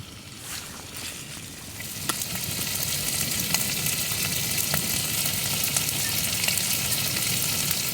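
Food browning in a pan at a rainy lakeside campsite in remote New Zealand, a constant soft sizzle with small crackles that grows slightly fuller after a few seconds, fairly quiet and steady throughout.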